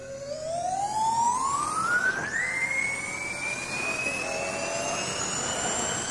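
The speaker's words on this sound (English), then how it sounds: "let's leap on the Little and Large time machine and go back to Supersonic's school days" Radio comedy sound effect for a time machine journey, a loud rising whoosh with a steadily climbing pitched whine that sweeps upward and then holds high over a dense roar.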